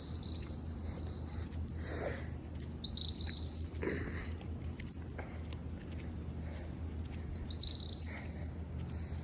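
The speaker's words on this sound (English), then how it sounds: "Little songbirds." Small songbirds chirp and trill in short bright bursts at a Punta Cana resort, several calls repeating over a soft steady background hum, with no voices.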